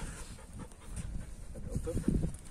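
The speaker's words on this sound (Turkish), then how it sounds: "Çok atik, çok tetik bir köpek." An alert Malinois or Dutch Shepherd dog pants quickly and rhythmically close by, its breaths growing louder toward the end, with a person's voice in the background.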